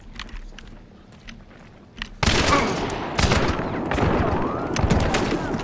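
Gunfire erupts in the video game Hunt: Showdown, starting with a sudden loud burst and continuing as dense, overlapping shots and crackling across several seconds of sustained combat noise, with no voices over it.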